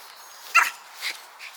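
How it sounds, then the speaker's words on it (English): A Rottweiler barks once, sharp and fairly distant, across open grass near woods, followed by two fainter yips, with no talking. "That's another dog."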